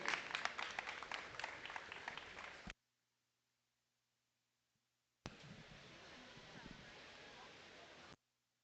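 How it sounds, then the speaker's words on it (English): Crowd at a meat goat show at the Indiana State Fair applauds exhibitors in two faint bursts of clapping separated by a silent gap, with a voice briefly audible. "Let's give them a nice round of applause, please."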